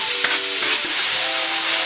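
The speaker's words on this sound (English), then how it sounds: "Go in the frying pan with the butter, and they stay there until they're caramelized" Onions fry in butter in a frying pan until caramelized, a steady close sizzle with occasional stirring scrapes.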